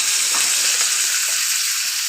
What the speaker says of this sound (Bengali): এখন আলুগুলো দিয়ে দিলাম।